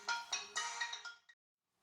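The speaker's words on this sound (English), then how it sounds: "That was a telemarketer calling me on my phone." A cell phone ringtone from a telemarketer's incoming call, a bright electronic melody of a few quick pulses at moderate volume, ending abruptly, in a garage during a rear wheel bearing and brake job.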